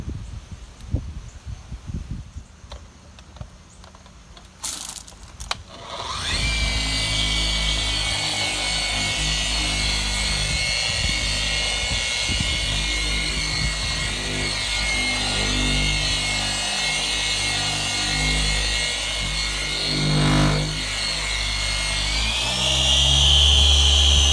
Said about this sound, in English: that's a dual action buffer or whatever it's called